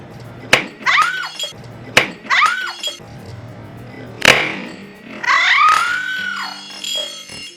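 A drinking glass shatters at a home mukbang, several sharp crashes and tinkling fragments spread over a few seconds, loud and close, with no one talking.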